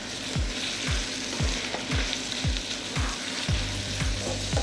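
Shrimp shells frying in a pan for bisque sauce crackle and sizzle under a steady hiss, with a regular series of about eight low scraping strokes as they are stirred, close up and without speech.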